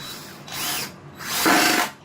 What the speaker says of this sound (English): So we'll put our last 2 screws in here.